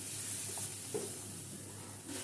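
A low, steady sizzle of coriander and Kashmiri chilli powder masala cooking in a pan after a splash of water, faint and continuous with no talking.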